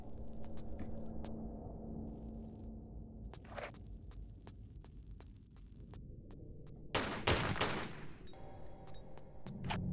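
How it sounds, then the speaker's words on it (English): Uzi fire in Tomb Raider IV: The Last Revelation (1999, PC), heard as scattered sharp, clicking shots over a low ambient hum, with a louder, denser burst near the end. "Uzis."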